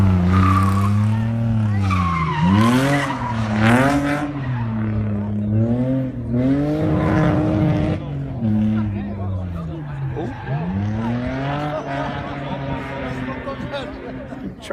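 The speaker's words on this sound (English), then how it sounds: "As we get the next car coming through here." Rally car charging through a stage of Rally Monterberg, engine howling and rising through gears as tires skid and squeal on the loose surface, loud and close, continuous for the whole stretch with a commentator talking over it.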